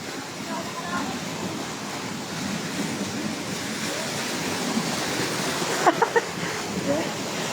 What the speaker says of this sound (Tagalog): Kaya pala tinawag na Sprite Falls.